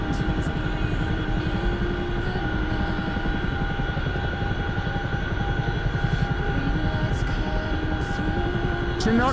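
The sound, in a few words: Chinook helicopter flying in video game DCS World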